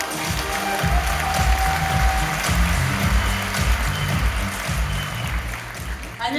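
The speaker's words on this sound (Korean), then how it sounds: "큰 박수로 맞이해주세요." Loud applause from a large Korean Atomy event audience welcoming a crown master speaker, with dense clapping over a heavy low rhythmic music bed that continues throughout.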